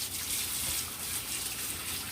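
Water runs steadily into a container where turkey wings soak with lime. The pour is a constant, close gushing stream with no voices over it.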